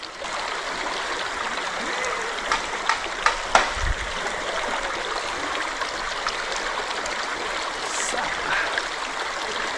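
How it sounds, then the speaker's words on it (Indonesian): A small river stream flows with a steady, moderate trickling wash, broken by a few brief knocks and splashes partway through, heard outdoors without talking. "Ini saya pengen banget mandi sebenarnya di sungai nih, cuman udah kesorean dan juga sungainya sayang agak terlalu kecil ya"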